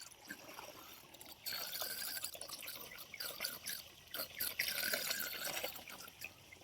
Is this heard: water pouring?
yes